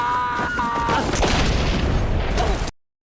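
A grenade explosion: a loud, close booming blast with a rumbling, crackling tail that cuts off abruptly, with a brief high tone at the start.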